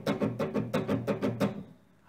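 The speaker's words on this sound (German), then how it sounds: "Die linke Hand macht dann einfach nur die Finger auf die Saiten drauf, die werden aber nicht gedrückt, sodass man so ein Rattern hat." Acoustic guitar strings muted by the left hand, with fingers resting on them without pressing, and strummed in a quick even rhythm of about eight percussive rattling strokes before falling silent.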